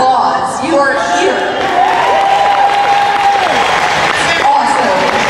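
Fan convention crowd at a 2019 Supernatural event in New Jersey applauding and cheering for Rachel Miner, a dense, steady wash of clapping with whoops and voices mixed throughout.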